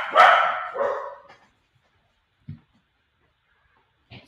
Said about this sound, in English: my dogs were barking there for a minute